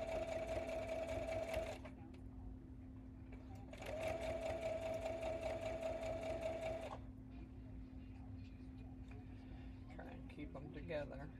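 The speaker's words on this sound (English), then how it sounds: "we do want to do a reverse stitch on this one now" A sewing machine reverse-stitches quilt blocks in two sustained bursts of rapid, even whirring, with a pause between them, while a person talks over and between the runs.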